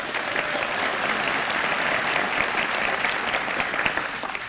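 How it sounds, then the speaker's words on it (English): A conference audience bursts into dense, even applause that holds strong throughout, with no speech over it. "So give me short applause and I'll start again."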